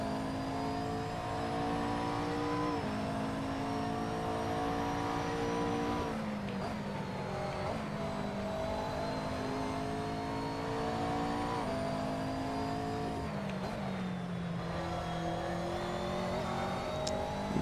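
Race car engines in a sim racing video game drone steadily and loudly throughout, pitch rising and then dropping abruptly at several gear shifts, with no voices.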